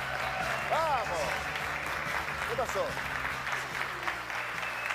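Studio audience applause greeting the guest Daniel Castro on a talk show, steady clapping throughout, with a host's voice and shouts over it.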